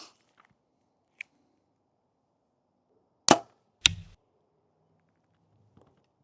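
Arrows loosed from an archery bow at a target during practice, two sharp snapping releases close together with a thud after the second, otherwise quiet with a few faint small noises.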